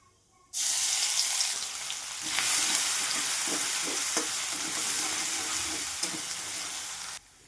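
Cumin and thecha hit hot mustard oil, setting off a sudden loud sizzle that holds steady and strong for several seconds before cutting off abruptly, with a few crackles and spoon sounds underneath.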